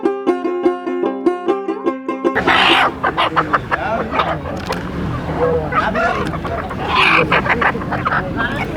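A short burst of music gives way to a busy, crowded village market scene full of chickens clucking and squawking close by, with noisy bustle throughout.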